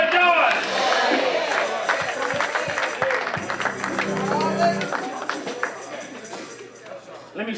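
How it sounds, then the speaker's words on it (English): Congregation clapping during a sermon, rhythmic claps running under a preacher's loud voice and organ-like tones, with crowd noise building in the middle. "Let me stop your hands from clapping right here."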